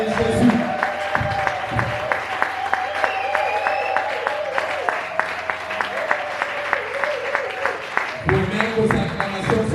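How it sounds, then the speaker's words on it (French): A church congregation cheers and applauds with rhythmic clapping and shouts, as a preacher's amplified voice speaks over the crowd. "Est-ce que nous pouvons acclamer et pousser les joies pour la gloire de Jésus?"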